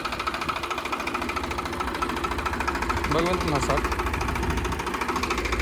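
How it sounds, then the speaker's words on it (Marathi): A Farmtrac 60 Powermaxx tractor engine runs at a steady idle, its rapid low knocking pulse continuing throughout while someone talks over it. "तो ट्रॅक्टर इकडे येतोय या वावरामध्ये आणि हा ट्रॅक्टर मी तिकडे घेऊन जाणार आहे आता"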